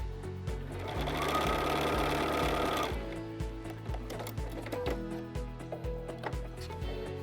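A sewing machine stitches a rolled hem on sticky fabric, a sustained whir at first that breaks into a string of distinct, evenly spaced needle thumps, close and clear.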